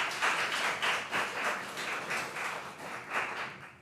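Audience members at a city council meeting clap after a public speaker finishes, a steady run of many hands clapping at a moderate level that tapers off toward the end.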